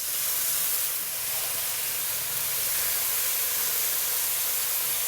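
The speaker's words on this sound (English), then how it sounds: "Now we add in 60 milliliters of water." A strong, continuous hiss of steam and spraying sizzle as water hits a hot wok of prawns, constant and loud throughout, without speech.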